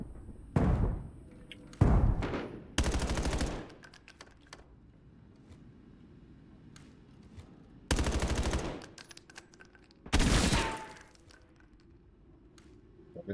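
Bursts of gunfire from a competitive esports shooter video game, several loud sharp volleys and single shots spread through a quiet stretch, with faint clicks and ambient hum in between.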